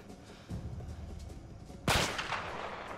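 Sniper rifle fire in the video game A Way Out: one sharp, loud crack with a ringing tail cuts through a low game ambience, preceded by a duller thud, no talk.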